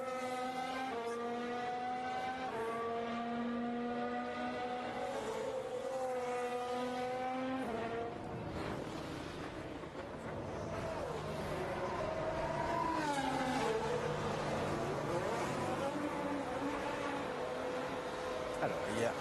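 Formula 1 cars queue at the pit lane exit during second practice at the 2021 French Grand Prix, their high-pitched engine whines rising and falling as they pull away, while a commentator talks over them.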